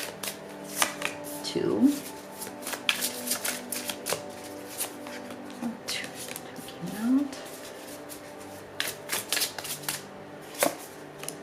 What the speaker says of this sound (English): We're going to pull 5 tarot cards here.